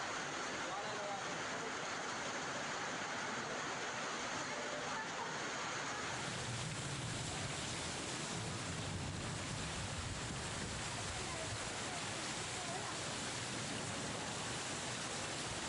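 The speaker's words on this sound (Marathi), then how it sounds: "कशा प्रकारे तुफान पाऊस पडतोय" Heavy rain driven by strong wind pours down in Sambhajinagar as a dense, continuous broadband roar that stays loud and unbroken throughout.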